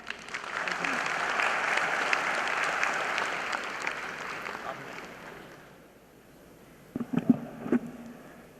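Conference audience of accounting students clapping for a paper presenter, a broad steady round of applause that gradually thins and fades, followed by a few scattered knocks and handling noises near the end.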